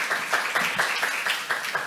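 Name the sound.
audience applause for a speaker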